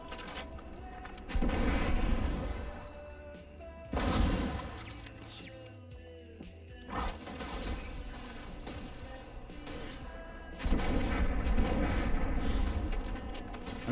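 Heavy turret gunfire in the space role-playing game Starfield, a sustained barrage of booming shots and blasts that swells and recedes in loud waves, dense and close with only brief lulls.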